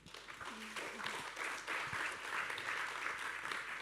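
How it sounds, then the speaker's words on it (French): A conference audience applauds, a faint, fairly distant wash of clapping that carries on steadily, with a few voices murmuring underneath. "Sous vos applaudissements, mesdames, messieurs"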